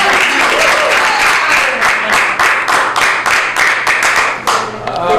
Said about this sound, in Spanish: un aplauso ahí para darlo